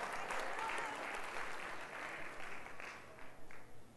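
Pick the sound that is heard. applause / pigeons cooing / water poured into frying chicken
applause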